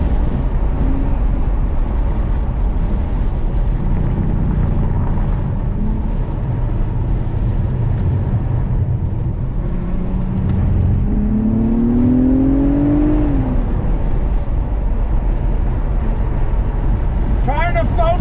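Engine of a 2021 Acura TLX Type S sedan with all-wheel drive, droning steadily and rising in pitch as the car drops through the corkscrew on a track, with a person talking over it throughout.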